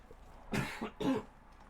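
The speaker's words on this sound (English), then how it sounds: "It's a nasty little cough." Two short, harsh coughs a fraction of a second apart, close and moderately loud against a quiet room, with a rough throat-clearing texture.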